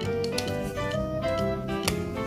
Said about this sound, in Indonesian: Ini jangan lupa harus ditekan sampai ada bunyi klik ya.